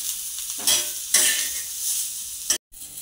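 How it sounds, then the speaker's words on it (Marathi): Chopped onion sizzles and fries in a little oil in a pan for a chicken curry, with a steady crackle and louder bursts as it is stirred, close by and with no talking. "याच्यामध्ये मी कांदा भाजून घेणार आहे अगोदर"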